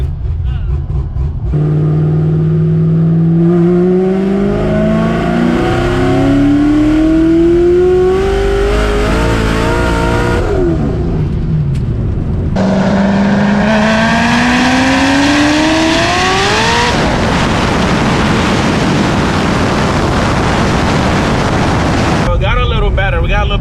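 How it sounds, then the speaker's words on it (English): A ProCharged 441 LSX C6 Corvette Z06 roars close by, its engine note climbing through gears twice in long pulls with heavy wind noise, and people's voices are faintly present. "More grip in that one, so we're gonna try to burn out again and do another pass"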